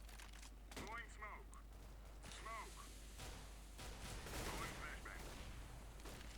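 Tec-9 pistol fire in the game Counter-Strike: Global Offensive comes as a series of sharp, rapid shots over a low steady hum, while a voice speaks over much of the action.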